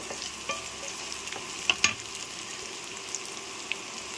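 Taro leaves frying in a pan, giving a steady close sizzle with a few sharp utensil scrapes and clicks as they are stirred, no voices.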